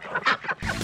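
Several short nasal quacks from a duck at a muddy outdoor bird-feeding spot, close and fairly loud, in an uneven run of calls with rustling and movement behind them.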